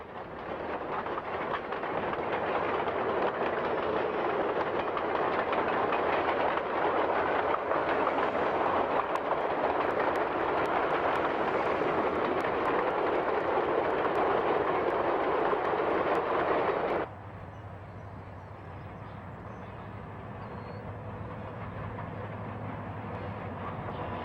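A model train at Northlandz rumbles continuously along its track past canyon bridges, a steady mechanical whir that drops abruptly to a quieter hum partway through.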